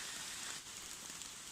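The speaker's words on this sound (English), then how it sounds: "it's going to be heavy rain like this all night" Heavy rain drums steadily and evenly on a two-person backpacking tent during a storm at night in the woods, a dense close hiss that holds without a break and has no voices over it.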